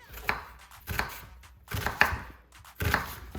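Vegetables are chopped with a knife on a board for a chicken stew, four distinct close knocks spaced roughly a second apart.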